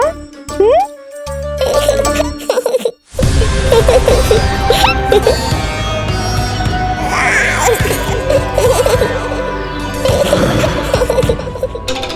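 An infant Kanha coos and gurgles in a mythological drama about the demoness Putana, with soft babbling sounds rising over a dense, continuous bed of background music.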